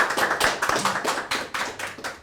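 A small group claps briefly during a Sundanese podcast recording, a quick run of sharp, fairly close handclaps in an uneven rhythm with no talk.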